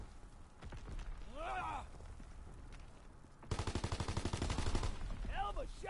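Loud automatic gunfire from a World War II–era gun in the online multiplayer shooter Call of Duty WW2, a rapid rattling burst in the second half, with speech-like voice fragments over background battle noise earlier.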